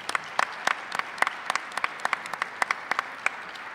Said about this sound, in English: as I think we all have, we applaud you.